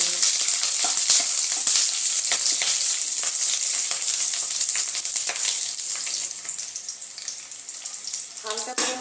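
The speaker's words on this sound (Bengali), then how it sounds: "এর মধ্যে আমি যে বড় বড় সাইজের পেঁয়াজগুলো কেটে রেখেছিলাম সেই পেঁয়াজগুলো একটু ভেজে নেব" Large chunks of cut onion fry loudly in hot oil in a kadai, a dense, continuous sizzling hiss heard up close that eases slightly toward the end, with faint scraping of the pan.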